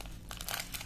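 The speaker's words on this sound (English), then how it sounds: "I just cut a corner." Children's scissors snipping off a corner of a plastic package, a brief close crinkling and crunching of wrapping in a quiet room.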